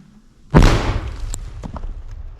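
A single heavy mortar blast booms close by, fired by a mortar crew near Toretsk, a sharp concussive thump that rings out and decays into faint rustling.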